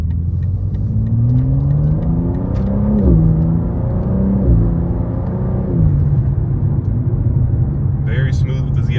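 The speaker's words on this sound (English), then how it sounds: "M2 doesn't really do pops, it more does burbles in terms of like the exhaust." A BMW M2 G87 with the ZF eight-speed automatic drones steadily while driving, its exhaust note rising and dropping through smooth gear changes, loud and close from start to end.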